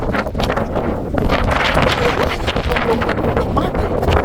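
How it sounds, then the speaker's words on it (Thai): Strong wind buffets the microphone outdoors on a grassy lawn under clear sky, loud gusty roaring and rumbling that rises and falls without a break. "ลมแรงมากเลยค่ะ"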